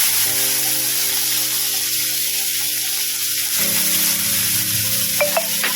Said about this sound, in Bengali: পেঁয়াজটা ভেজে নিই।